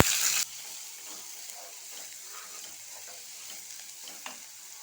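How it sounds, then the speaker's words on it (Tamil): Sliced onion sautés in a pan while wheat dosa is being made. A short, louder hiss at the start settles into a soft, steady sizzle, with faint stirring and scraping throughout. "வெங்காயத்தை இந்த மாதிரி நல்லா வதக்கி எடுத்துக்கோங்க."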